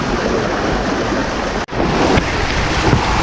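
Rushing water pours steadily and loudly close by during a rainy monsoon trek to Karnala Fort, a dense continuous roar with wind buffeting the microphone and a brief dropout midway.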